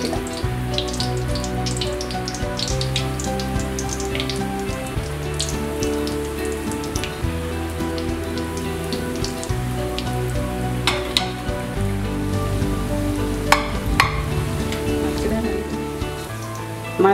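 Beef cutlets fry in a wok of hot coconut oil, giving a steady, rain-like crackling sizzle that carries on evenly throughout with a few sharper pops.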